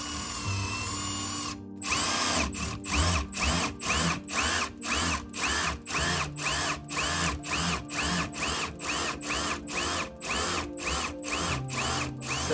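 A power drill fitted with a 3/4 inch bit runs in repeated short bursts, a loud whirring grind pulsing on and off in a quick rhythm after a brief high whine at the start, with no voices.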